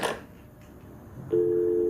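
A steady telephone line tone comes in abruptly partway through and holds alone to the end, after a brief muffled noise at the start, as a cut phone line is reconnected.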